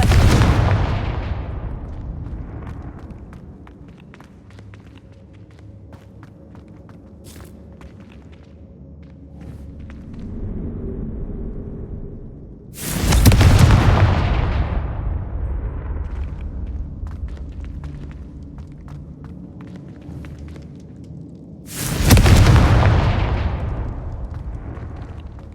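Confringo fire spells in the video game Hogwarts Legacy detonate three times, each a loud, close booming blast that decays slowly into a rumbling tail, spaced roughly ten seconds apart over a quiet ambient bed.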